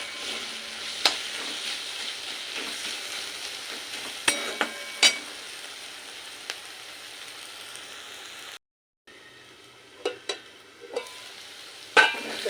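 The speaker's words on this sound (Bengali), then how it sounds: "পেঁয়াজের সাথে পোস্তটা এক মিনিট একটু কষিয়ে নেবো" Onion and poppy seeds being stirred in a hot pan give a steady, close sizzle and fry with occasional spoon scrapes and taps, broken by one brief silence.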